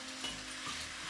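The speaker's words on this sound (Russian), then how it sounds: "Обжариваем на среднем огне." Chicken pieces fry in a pan of heated butter and vegetable oil over medium heat, a close, steady crackling sizzle throughout.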